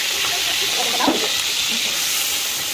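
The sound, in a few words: spice paste frying in hot oil in a wok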